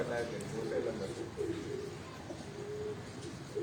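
A pigeon coos in low, repeated murmurs on a rooftop loft, fairly faint beneath steady background noise and nearby conversation.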